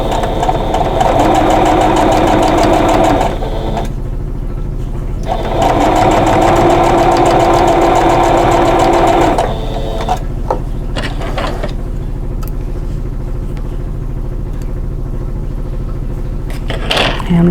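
A sewing machine stitches a quilt block seam, a loud, steady mechanical whir that runs in two long bursts with a short pause between, then settles into quieter handling sounds.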